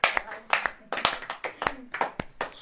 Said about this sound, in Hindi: ताली ऐसे बजा, ऐसे बजा, ऐसे बजा